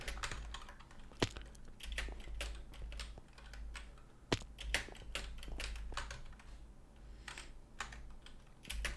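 Rapid, steady keyboard clatter with mouse clicks during a Minecraft parkour session, close and continuous for several seconds with brief louder taps.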